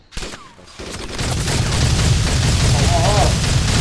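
High-explosive fire pounding a position in a military video game, a sharp blast up front followed by a dense, sustained roar of booming detonations and gunfire that stays loud to the end.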